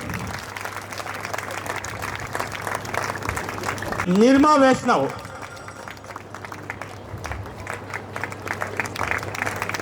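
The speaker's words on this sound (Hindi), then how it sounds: "जोरदार तालियों से स्वागत कीजिए।" A school audience applauds a teacher being welcomed onto the stage at an evening school function. Clapping rises under an announcer's amplified voice, swells briefly in the middle, and mixes with the hall's echoing crowd noise.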